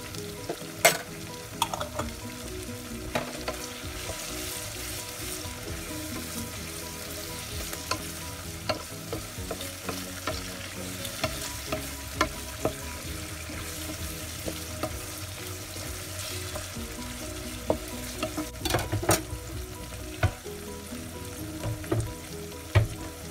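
Garlic sizzles and spits in hot oil in a pan while sambal terasi is being made, giving a steady close frying hiss broken by occasional sharp pops and stirring scrapes, with no talking.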